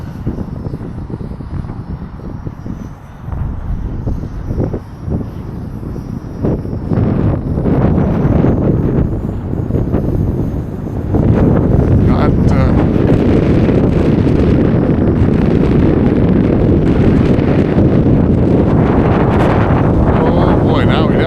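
Strong gusty winter wind buffets the microphone during a flight of a Volantex P51D Mustang 400mm RC plane, a loud continuous roar that surges and swells into heavier gusts, drowning out other sounds.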